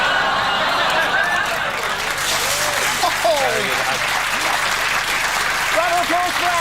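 Studio audience applause on a 2005 TV show: a steady, dense wash of many hands clapping throughout, with a voice talking over it.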